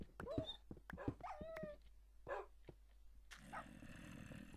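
Dogs in Minecraft give several short, high whimpers and yips, fairly close and clear, separated by pauses, followed by a burst of busy game noise.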